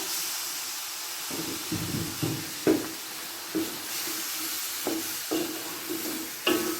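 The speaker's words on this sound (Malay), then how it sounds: "Tumis selama 2 minit, kacau selalu." Ground spices for vegetable kurma being sautéed in a pan, a steady sizzling hiss broken by several soft scrapes and knocks of a spoon stirring against the pan.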